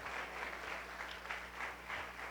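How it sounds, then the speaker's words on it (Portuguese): A church congregation claps and applauds during a worship service, a steady wash of many hands clapping together, moderately loud and unbroken, with no voices rising above it. "Aplauda Cristo Jesus, o nosso Senhor."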